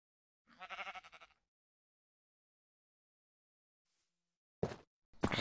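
A sheep in the video game Minecraft (Foolcraft modpack) gives one clear bleat, followed after a pause by a couple of short sharp thumps or hits, all fairly close and isolated against silence.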